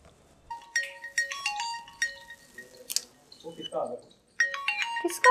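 A melodic phone ringtone chimes in repeated bright phrases, with a brief pause midway before the tune resumes.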